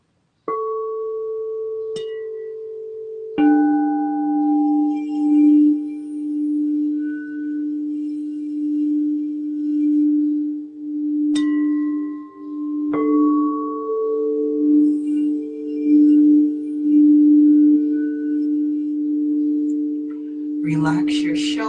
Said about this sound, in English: I'm going to begin the sound bath.